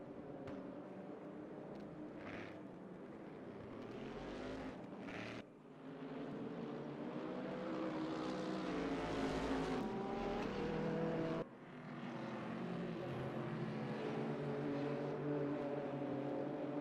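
Race cars circling Monza in the RaceRoom sim, a continuous engine roar that swells and drops as cars rush past, with gear shifts and shifting pitch, loud and close, no voices.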